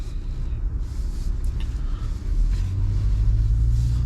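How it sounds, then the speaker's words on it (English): A 2021 Toyota GR Supra 3.0 with a ZF 8-speed automatic pulls away in normal mode, a low steady engine rumble heard from inside the cabin that deepens and grows slightly louder as it starts moving. "let's go and put it in drive here."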